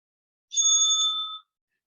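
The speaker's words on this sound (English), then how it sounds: "the bell will be rung once after the first minute" A single clear bell ring during a school debate competition, used as a speech timing signal; one bright metallic ding sustains for about a second and fades, close and alone in otherwise silent surroundings.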